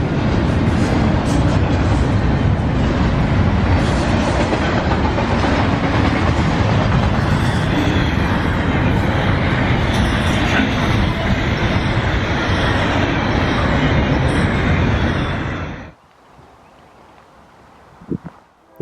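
A freight train rolls past on the track for about sixteen seconds, a loud, dense rumble with clattering wheels, then drops abruptly to near silence.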